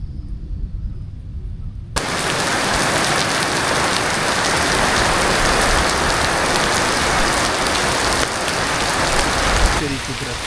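Heavy rain pours down in Murree during the rainy season: after a quieter opening with a faint voice, a loud, dense, steady hiss of downpour begins suddenly and continues close by, with brief surges.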